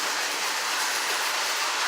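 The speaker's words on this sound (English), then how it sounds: "I had to come out here and started up the trains immediately. They all started running." Model trains run steadily along the track, a continuous rattling hiss with no pauses, fairly close and moderately loud.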